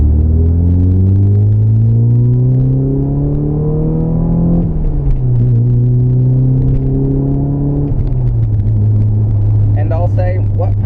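A Porsche 944 engine pulls hard in second gear from about 2,000 RPM on a straight road, a loud steady drone rising in pitch, dipping briefly at a shift near the middle, then climbing again close up inside the car.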